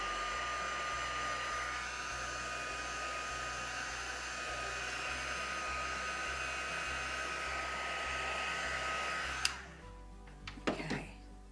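A hair dryer blows steadily up close to dry paint on a craft card, a continuous whooshing roar for about nine seconds before it switches off, leaving a few faint handling knocks.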